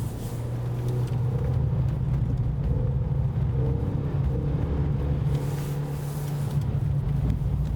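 On-board engine drone from a car lapping a race circuit, climbing toward the Combes chicane at its highest point, a steady loud low rumble with shifting pitch and no pauses.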